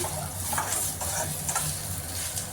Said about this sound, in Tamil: ஒரு 2 to 3 மினிட்ஸ் அடுப்பில் வச்சு இந்த மாதிரி வதக்கிட்டே இருக்கலாம்